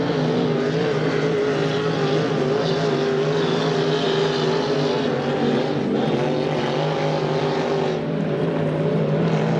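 An H350 hydroplane racing boat engine roars steadily during a race at Valleyfield, a loud continuous droning whine that holds level throughout, with no talk heard.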